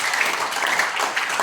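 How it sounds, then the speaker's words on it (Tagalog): A church congregation claps loudly in praise during a worship service, a dense, even burst of many hands close by with no talking. "At pumalakpak ng malakas sa ating Panginoon"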